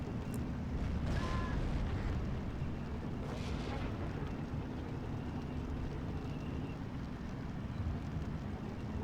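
Artillery barrage in Steel Division 2, a WWII tank strategy game, rumbling as a dense, continuous low roar of distant shelling with scattered sharper blasts throughout, no voices.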